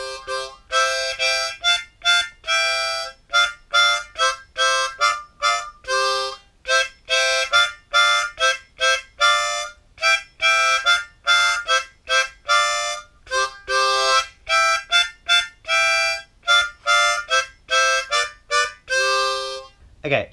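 A harmonica plays Twinkle Twinkle Little Star as clear, separate single notes in a slow, steady melody that runs alone for about twenty seconds.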